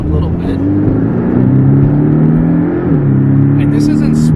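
Porsche 718 Cayman S accelerating hard in Sport mode, a loud steady engine roar with rising revs heard from inside the car, briefly dipping as a gear changes before climbing again, with a voice under it.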